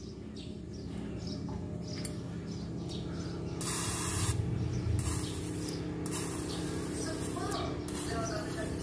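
A cleaned motorcycle fuel injector sprays forcefully on a test rig, producing a steady close hiss that surges louder for a few seconds midway, with no talking.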